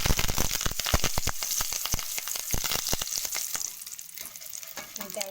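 Aṭukula (poha) mixture ingredients frying in hot oil, a dense steady sizzle broken by frequent sharp crackles and stirring scrapes, loud and close, easing slightly toward the end.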